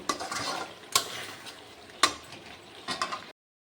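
Chicken pieces with pre-fried potatoes being stirred and fried in a pan, a soft sizzle broken by three or four sharp scrapes and clacks of a spatula against the pan.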